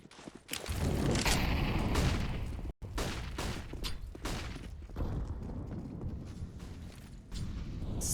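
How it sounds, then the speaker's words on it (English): A string of flashbangs and utility pops in a Counter-Strike match on the Vertigo map bangs out in sharp bursts, one cutting abruptly to a brief silence before the din resumes, with no talk over it. "Sequence of flashbangs."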